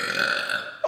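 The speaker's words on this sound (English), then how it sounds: "A massive burp." A loud, drawn-out human burp lasting nearly a second, close and alone, ending in a short vocal catch.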